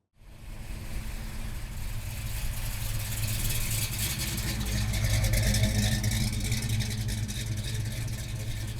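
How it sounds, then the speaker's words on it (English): A Plymouth Road Runner with a 440 V8 starts up and settles into a deep, burbling exhaust idle, loud and close, its rumble swelling slightly as it runs on steadily. "it's Roadrunner time. Listen to that exhaust."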